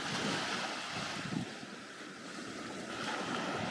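Steady wash of surf and wind noise on an open white-sand shoreline at Okitsu beach in Shimanto, Kochi, Japan, continuous and fairly loud with no voices.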